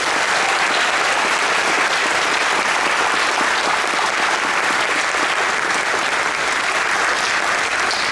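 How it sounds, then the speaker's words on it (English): An audience at a high school junior marshals ceremony claps, a dense, loud, sustained round of applause that fills the whole stretch without letup. "Please join me in giving these fantastic young people a round of applause."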